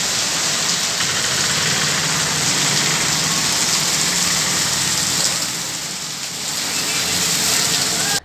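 Steady rain falls on city roads in Basavakalyan during the first rain of the year, a dense continuous hiss with a low rumble of idling engines and traffic beneath it.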